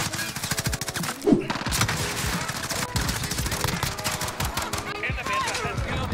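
Model 680 shotgun with excavator tracer skin firing in Call of Duty Modern Warfare multiplayer, sharp gunshots and rapid gunfire amid busy battle noise, loud and close.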